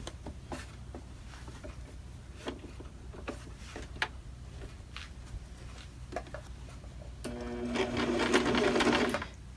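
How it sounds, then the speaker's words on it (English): Sewing machine stitching along the edge of quilting fabric, with a string of soft clicks and taps before the machine whirs into a fast, steady close-up stitching run near the end. "I'm just going to stitch and I'm going to follow along the edge of this fabric on top"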